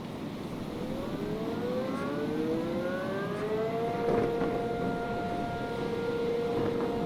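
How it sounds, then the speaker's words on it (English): Wailing sirens in modded Minecraft during a tornado rise and glide in overlapping pitch sweeps over a low rumbling background, steady and fairly distant, with no voices. "Sirens are going off."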